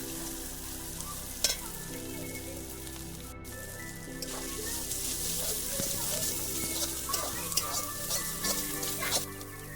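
Onion and green chili paste sizzles as it fries among already-fried onions in a pan, a continuous moderate crackle and hiss that grows busier in the second half, with a few sharp clinks.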